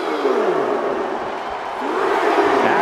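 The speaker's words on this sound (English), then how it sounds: "I'm starting to get the crowd involved." A dense arena crowd roars and cheers steadily throughout a WWE 2K24 wrestling match, NXT Battleground, swelling slightly louder toward the end as the noise holds constant and loud.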